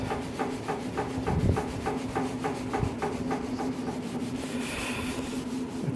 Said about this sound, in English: The baking soda probably is what's actually doing most of the cleaning because it's probably abrasive.